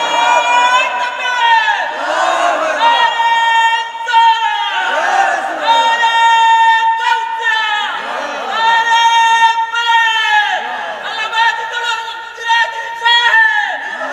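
A large religious gathering chants a slogan in unison with raised hands, loud, rhythmic repeated shouted phrases rising and falling in waves throughout, with a lead voice among the massed voices.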